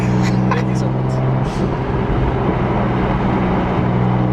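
A BMW M4 with a straight-pipe exhaust rumbles loudly and steadily up close, a deep droning exhaust note with a few sharp crackles early on.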